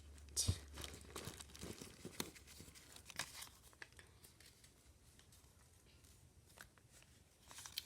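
Paper being folded into an origami swan gives off soft, close crinkles and crisp creasing rustles in irregular bursts.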